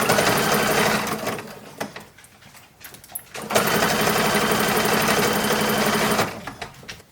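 A sewing machine top stitches a toddler's summer hat in a 1910s–1920s style, running in two long steady bursts separated by a brief pause filled with faint handling sounds.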